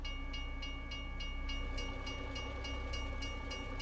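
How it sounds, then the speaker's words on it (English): A train rolls past in American Truck Simulator near Lillooet, British Columbia, with a steady rumbling drone and regular clickety-clack wheel beats repeating throughout, heard alone without talk. "What's that train going to come through?"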